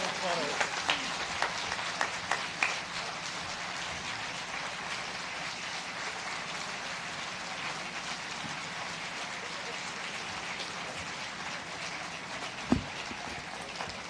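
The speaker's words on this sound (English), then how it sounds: "Let's have a big hand of applause." Applause at the Armenian American Museum groundbreaking ceremony, a large outdoor crowd clapping in a dense, steady wash that holds for many seconds, with a few louder claps near the start and a brief thump near the end.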